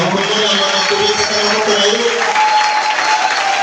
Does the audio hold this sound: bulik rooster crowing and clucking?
no